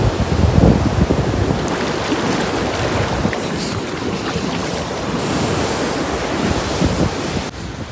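Ocean surf washes steadily onto Curlies Beach in Goa, a loud continuous roar of breaking waves mixed with heavy wind buffeting the microphone.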